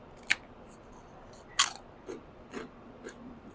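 Carta di musica, a thin crisp Sardinian flatbread, bitten twice with sharp dry crunches, then a few softer chewing crackles, close and alone with no talk.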